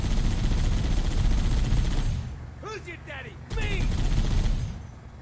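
Gunfire in the video game Halo: Combat Evolved, with dense rattling bursts of automatic fire that cut out briefly and then resume, while a voice speaks during the pause.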